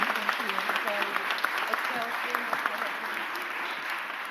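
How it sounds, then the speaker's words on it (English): Crowd applause for a newly appointed city commissioner at a mayor's press conference, steady clapping filling the room with voices talking over it throughout. "Give our new commissioner a round of applause."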